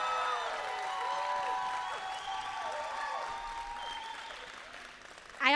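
Steady applause from a crowd fills the space, sustained and moderately loud, with music or tones ringing over it, then fading slightly before a sudden burst at the end.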